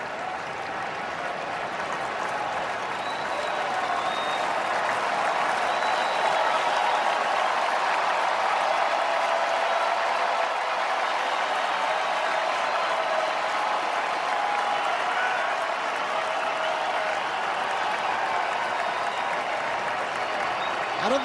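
A large crowd at a Yankees versus White Sox baseball game keeps up loud, sustained applause and cheering for the whole stretch, a dense, unbroken roar filling the stadium.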